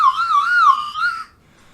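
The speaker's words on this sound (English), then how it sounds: "Each time you use the whistle, it's a song" A person whistles a short, wavering tune, clear and close, for just over a second before it stops and near-silence follows.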